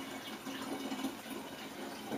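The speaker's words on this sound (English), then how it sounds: "So I'm going to top this up with water." Water poured steadily into a home wine-making container to top it up, a continuous soft trickling and gushing stream at close range with no talking.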